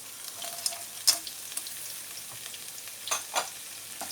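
Small cut potatoes and frozen pieces fry in a pan for a keema samosa filling, a faint steady sizzle with a few light clicks and scrapes of stirring.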